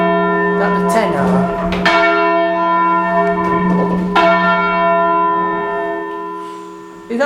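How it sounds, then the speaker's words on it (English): The tenor bell of a church rings loudly close up inside the ringing chamber: three heavy strikes, each followed by a long, shimmering hum that fades slowly between blows. "Is that the tenor bell?"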